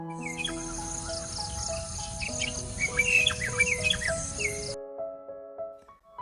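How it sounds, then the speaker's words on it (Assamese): A drongo calls steadily in the open, a busy run of sharp chirps, squawky notes and whistles that carries on for several seconds and then abruptly stops, leaving only faint background. "দ্ৰংগো"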